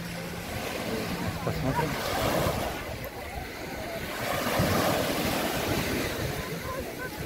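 Small sea waves wash onto a beach on a yellow-flag day, a steady broad surf wash with wind buffeting the microphone, swelling slightly midway, while a person speaks briefly.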